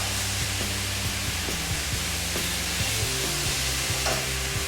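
Mushrooms frying in oil in a hot pan, a steady loud sizzle with the rhythmic scrape and clatter of stirring throughout.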